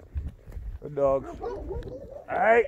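A dog gives a few short, close barks and yelps amid outdoor noise while dogs work cattle, with a person's voice nearby.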